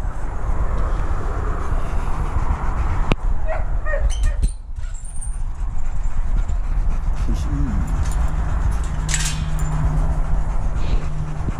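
A retired guide dog barks and whimpers in short yips amid constant background noise and a low engine drone, with people talking nearby.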